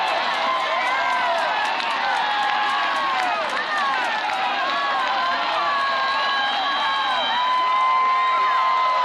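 A large crowd at a college softball regional game between Clemson and Alabama cheers and shouts continuously, with whistles and whoops over a dense roar, loud and sustained.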